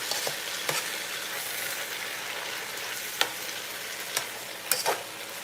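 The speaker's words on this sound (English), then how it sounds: "This is frying up there. Let it fry." Food sizzles and spits steadily in a pot over the heat, frying as the first step of okra and rice with stew fish, with a few sharper crackles and stirring clinks standing out close by and no talk.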